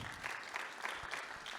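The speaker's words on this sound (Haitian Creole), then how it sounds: "je vous demande de l'applaudir" A seated audience at a company's 20th anniversary celebration applauds a family member, a brief steady patter of clapping from many hands with faint voices underneath.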